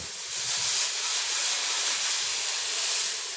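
Pot of garlic pasta with cauliflower bubbling on the stove, giving a steady, close hiss of boiling water and steam that holds evenly throughout.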